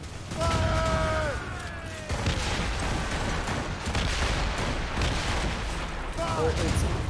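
Ship cannons fire in a naval video game battle, with booming blasts and rumbling reverberation, while voices shout over the gunfire.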